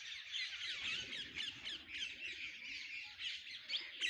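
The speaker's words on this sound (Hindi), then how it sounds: "यहाँ पर देखो तोते" Parrots squawking at Vanshivat in Mathura, a dense, continuous chorus of harsh, shrill calls overlapping close by, with pigeons nearby and a faint low murmur underneath.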